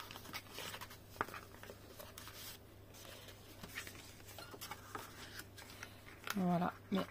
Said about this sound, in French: on va faire les plis en éventail